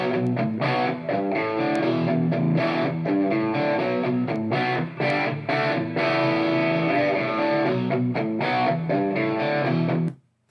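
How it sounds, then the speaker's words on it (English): Heavily distorted electric guitar, a Gibson through a Marshall amp, plays loud, crunchy power chords in a driving rhythm, full and raw, ending abruptly. "a raw, in your face, just pure Gibson and Marshall type sound"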